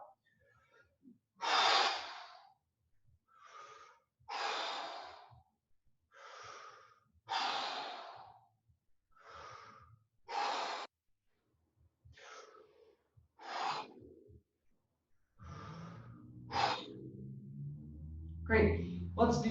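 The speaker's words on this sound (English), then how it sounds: "Make the breath as forceful as possible on the way out." Forceful breathing exercise during a body-tuning energetics workout, with a series of sharp, loud breaths in and out repeating at a steady rhythm, each a brief whooshing burst, and a voice coming in near the end.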